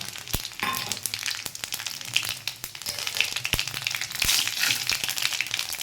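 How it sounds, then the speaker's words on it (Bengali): Bay leaf pieces, cumin seeds and two dried red chillies sizzle and crackle steadily in hot oil in a kadai, with a few sharp pops, close and fairly loud, no talking. "কড়াতে তেল দিয়ে দিচ্ছি তেলটাও গরম হয়ে গেছে এখানে ফোড়নে দু টুকরো তেজপাতা আর এক চামচ জিরে আর দুটো শুকনো লঙ্কা দিয়ে দিলাম"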